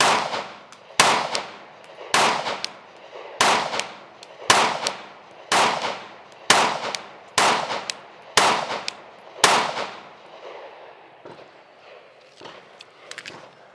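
Slow, evenly spaced gunshots at an outdoor shooting range, about ten sharp loud reports roughly a second apart, each with a short echoing tail, followed by quieter ambient noise.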